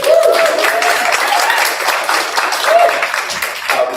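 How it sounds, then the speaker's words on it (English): Audience at a thesis and capstone presentation gives the presenter a round of applause, a loud, close burst of clapping that runs the full length with faint voices mixed in. "So please give him a round of applause."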